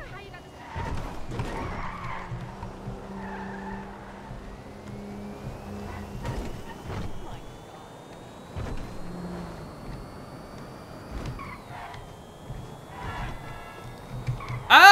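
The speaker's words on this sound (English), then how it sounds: "this car sounds fast" Fast car in GTA driving along with engine drone and tyre skids, heard under a man's near-constant talking over a game stream.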